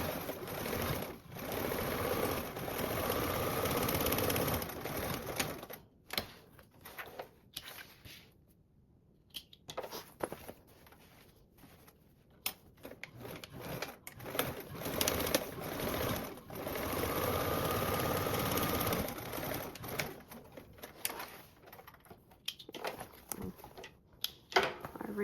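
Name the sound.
sewing machine doing reinforced stitching on a tote bag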